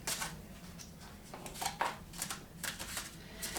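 Tarot cards are shuffled by hand in a series of quick, crisp rustling bursts, close and fairly quiet, with no talking.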